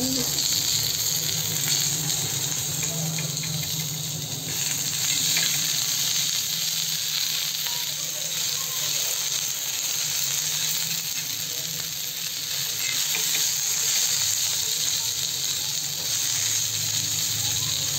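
Small country tomatoes and green chilies roast in a pan with a constant, fairly loud hiss and sizzle that runs unbroken the whole time, with faint clinks now and then.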